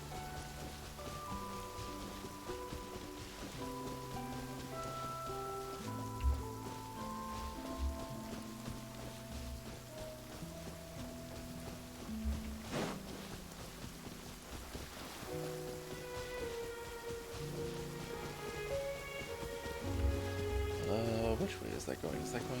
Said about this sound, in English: It's just from rain.